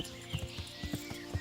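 Horse hooves clip-clop in a steady walking rhythm just behind the player in the medieval game Kingdom Come: Deliverance, fairly faint and close.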